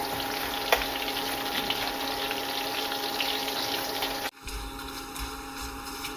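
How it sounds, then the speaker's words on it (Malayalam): Taro chips fry in hot oil after salt water is splashed in, a dense, loud crackling sizzle that cuts off abruptly near the end and then resumes more softly. "ഉപ്പ് വെള്ളം ഒഴിച്ചത് കൊണ്ടാണ് ഇങ്ങനെ ഈ ചീമ്പും പൊട്ടൽ പോലെ വരുന്നത്"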